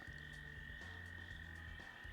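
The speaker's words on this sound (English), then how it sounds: "Look, there's frogs." Frogs croaking in the game Moonlight on Roseville Beach: low repeated croaks in an overlapping rhythm beneath a constant high insect-like drone, alone without voices.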